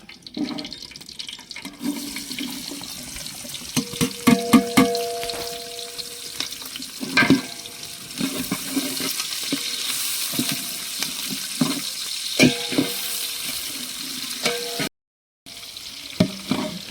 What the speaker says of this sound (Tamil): வெங்காயம் நல்லா பொன்னிறமா வர வரைக்கும் நல்லா வதக்கி எடுத்துக்கலாம்